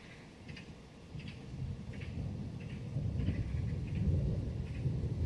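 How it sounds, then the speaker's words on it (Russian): Thunder rumbles low and distant in a garden, swelling gradually into a heavier, deeper roll, with faint repeated chirps or clicks above it. "Если вы слышите звуки, это гром."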